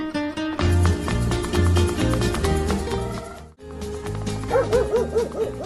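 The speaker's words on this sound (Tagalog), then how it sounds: "sumardeng ka nga tataol" A dog barks and yelps repeatedly over loud, busy background music, the barks near and rhythmic toward the end.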